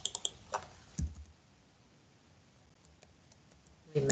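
Typing on a computer keyboard: a few scattered, faint key clicks and taps close by, with long quiet gaps between short bursts.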